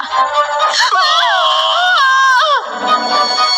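Dramatized screams from several people fleeing in a Hindi horror story: loud, close, high wavering shrieks that overlap for a few seconds, then fade into a rougher background din.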